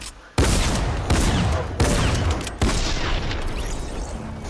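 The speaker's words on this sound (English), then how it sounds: "Rocket launcher." A rocket launcher fires in a video game, giving four loud, sharp blasts spaced about a second apart, each with a long rumbling tail. The first comes after a brief quieter lead-in.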